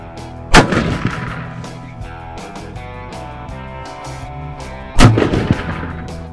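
Two loud, sharp rifle shots ring out at an outdoor shooting range during sighting-in on a New Mexico elk hunt, each cracking with a short echoing tail, spaced about four and a half seconds apart, with no talking.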